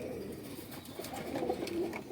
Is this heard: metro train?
no